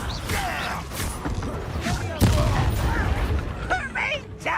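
Confringo spell blast in Hogwarts Legacy, a sharp explosive burst with rumbling tail amid game voices and combat effects, with other character voices talking throughout.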